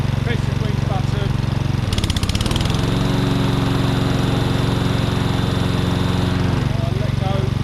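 A Hayter 48 Pro lawnmower engine runs loud and close in a steady drone, with a clunk and shift in pitch as the blades engage and the machine settles into a deeper, fuller hum.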